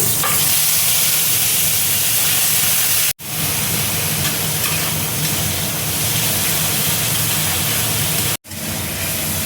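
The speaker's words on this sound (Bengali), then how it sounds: "এবার দেখো পেঁয়াজ বাটাটা দিয়ে দিচ্ছি" Onion paste sizzling loudly in hot oil with nigella seeds and a bay leaf, a continuous close hiss and crackle broken by two brief silent cuts.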